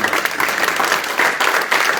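A church congregation at a worship service applauds, dense clapping from many hands filling the space evenly for a couple of seconds, loud and sustained.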